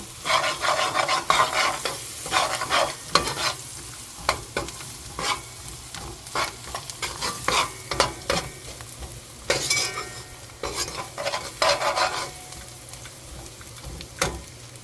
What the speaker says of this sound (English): add a spoonful of turmeric powder, mix it in with the oil,